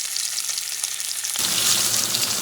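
Fat on a bison ribeye steak searing in a hot pan, a quieter crackle that jumps to a loud, dense, steady sizzle about halfway through, with no voices.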